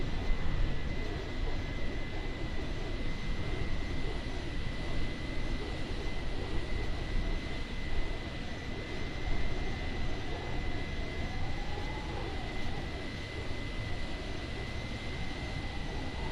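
Continuous loud engine roar from an airplane near an airport, a dense, steady rumble with a constant high whine on top, close and unbroken, no voices.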